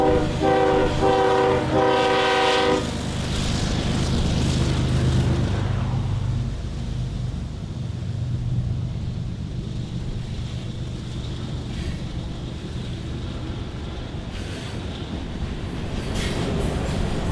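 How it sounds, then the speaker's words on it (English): A heavy freight train of about 70 iron ore cars and mixed freight labors up a grade near Lake Michigan in winter, with a loud horn blast at the start, then a steady deep rumble and wind buffeting the microphone. "the heavy train battles the hill out of the immediate vicinity of Lake Michigan"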